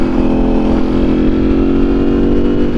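Ducati Streetfighter V4S motorcycle engine running close by, a loud, steady drone held at an even pitch throughout with no talking over it.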